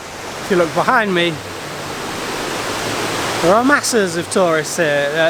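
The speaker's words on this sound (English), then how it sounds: "Janets Foss is an incredibly popular waterfall" Steady broadband rush of Janets Foss waterfall in North Yorkshire fills the whole stretch, a constant loud roar while someone talks over it near the start and again toward the end.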